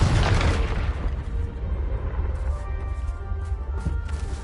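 A loud, booming blast from the Confringo fire spell in the video game Hogwarts Legacy, with a heavy low rumble that slowly trails off into game ambience.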